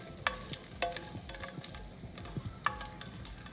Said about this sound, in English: Looks like the oil is hot, and I'm going to put in the ginger first.